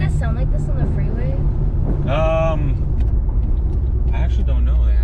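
A Mercedes AMG car engine rumbles low and constant while its driver gives it a little gas, the exhaust note rising toward the end, with people talking inside the car.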